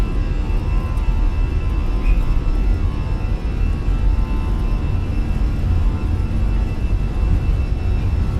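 Jet engines with CFM powerplants spool up for takeoff in an airliner flight simulator, a loud, steady low roar and whir that holds constant throughout with no voices.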